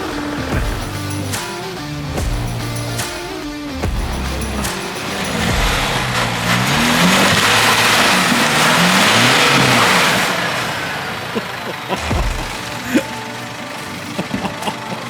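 An off-road 4x4 fitted with a new suspension kit revs hard on a trail, its engine climbing to a loud sustained roar and then dropping back, with rattles and bumps as it settles.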